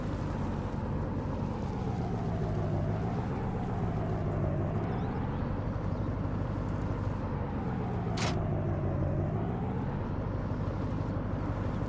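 A pickup truck drives in Farming Simulator 19, its engine droning steadily and rising and falling in pitch as it speeds up and slows, with one brief sharp click partway through and no talking.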